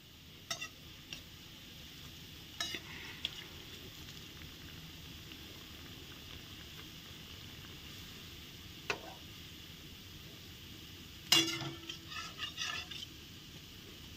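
Jackfruit fritters frying in a pan, a faint low sizzle punctuated by occasional utensil clicks and scrapes as pieces are turned; no voices.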